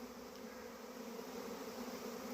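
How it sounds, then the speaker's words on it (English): A honeybee swarm on a homestead fills the air with a steady, dense buzzing of many bees at once, close and continuous with no voices. "we're standing in the middle of a bee swarm again"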